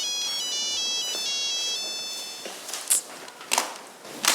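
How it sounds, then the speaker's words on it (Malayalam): Close by, a mobile phone rings with a looping electronic tune for about two seconds, then stops, followed by a few sharp knocks and shuffling sounds. "ദേ രമയുടെ ഫോണല്ലേ റിങ് ചെയ്യണേ?"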